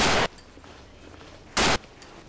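Two loud, booming shotgun blasts go off in the horror game Cry of Fear, about one and a half seconds apart, each standing alone over quiet background ambience.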